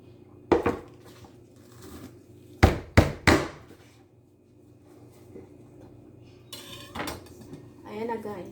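Frozen marinated chicken breast sliced for biryani, with a few sharp knife knocks on a board in quick succession, close and fairly loud, plus light kitchen clatter and a brief voice.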